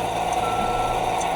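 Steady electronic alarm beeping from a school bus child check system on another bus parked nearby, an International beside a Bluebird, droning continuously over low idling engine rumble with no talk.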